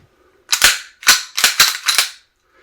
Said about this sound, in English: I'm going to go ahead and clear the gun.